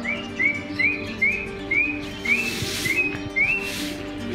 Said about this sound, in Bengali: শীষ মারল